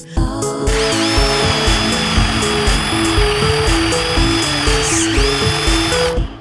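A power drill bores holes through a board with a spade-type bit, a loud steady whine that rises and dips in pitch as the bit bites and pushes through, running continuously up close with no talk.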